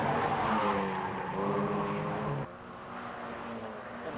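Mazda MX-5 race cars in a championship race at Cadwell Park, coming down the hill into the final corner; engines drone and rise in pitch, then the tone drops partway as a car passes.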